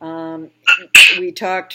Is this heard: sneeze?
yes